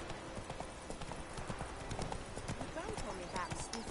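Roach the horse galloping in The Witcher 3, a steady rapid clip-clop of hooves running on and on at moderate loudness, with ambient game sound behind it and brief snorting near the end.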